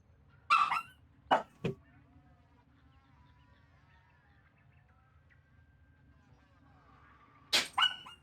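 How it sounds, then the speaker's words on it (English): A dog barks in the background, a few sharp separated yelps near the start and another at the end, fairly distant against a quiet room. "Did you all hear the dog barking in the background?"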